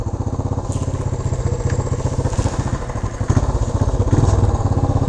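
A 1975 Honda XL350 motorcycle engine runs steadily nearby, a loud, even throbbing idle with a slight rise in revs toward the end.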